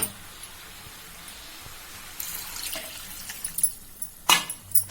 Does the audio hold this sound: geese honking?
no